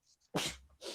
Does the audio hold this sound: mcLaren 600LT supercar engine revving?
no